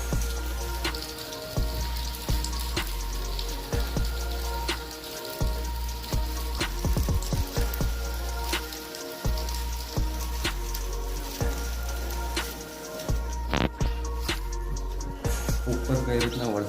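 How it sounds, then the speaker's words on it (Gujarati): Heavy rain pours steadily outside, a dense close patter with scattered sharper drips, while a voice talks at times over the downpour. "તમને બતાવું કેવી રીતના વરસાદ પડે."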